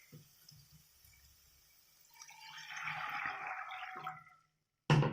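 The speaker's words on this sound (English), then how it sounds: "Now let's add some water." Water pours into a pan of fish cooked with stinkvine, a rushing splash of liquid lasting a couple of seconds after quiet bubbling, then a sudden loud clatter at the end.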